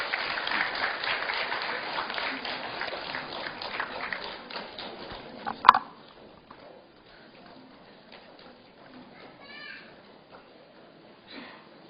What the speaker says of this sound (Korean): 먼저 환영의 박수로 함께 해주시기 바랍니다